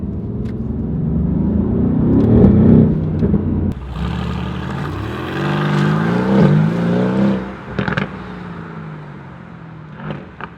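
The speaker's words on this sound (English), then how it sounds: "Listen to the downshift, it's ridiculous." Mercedes-AMG GT R engine revving hard through downshifts, loud and close from inside the car, the pitch climbing and falling in surges with sharp crackles near the end.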